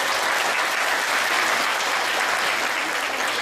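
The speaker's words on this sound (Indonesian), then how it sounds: "Tuh, tepuk tangan tuh." Steady applause from an audience at a religious sholawat gathering, a dense continuous wash of many hands clapping at even loudness throughout, with no voices standing out.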